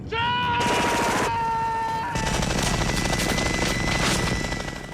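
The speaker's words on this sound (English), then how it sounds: "Shooting those many bullets coming through that gun, that power, it was an amazing experience." A machine gun fires on the jungle set of the 1987 film Predator, a loud, continuous stream of rapid shots over a droning whine that runs the whole time.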